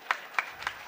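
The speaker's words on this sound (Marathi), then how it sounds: "एकदा जोरदार टाळ्या होऊ द्या" Scattered hand claps from the audience at a Datta Jayanti kirtan, three sharp separate claps about a quarter second apart, close and fairly loud.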